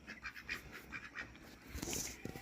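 Farm ducks quacking in a muddy farmyard among chickens and roosters, a cluster of nasal calls repeating unevenly at moderate distance with some rustling, no talk.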